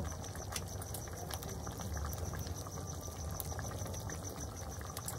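Tomato chutney with dry fruits and cubed mango leather simmers in a pot, giving a continuous soft bubbling and popping that stays low and even throughout, with no voices.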